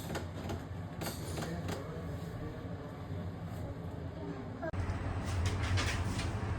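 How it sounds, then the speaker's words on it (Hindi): A metro train rumbles past outdoors, giving a steady wash of rail noise and faint clatter that swells toward the end, with people talking nearby. "Did you see Metro was also going?"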